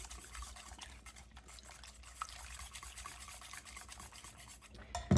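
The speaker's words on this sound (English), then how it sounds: "you're just going to want to give it a good whisk and get the chilies incorporated with the eggs." Eggs with chilies whisked in a bowl, a soft, steady scraping and sloshing that stays close and quiet, with a small knock at the end and no talk.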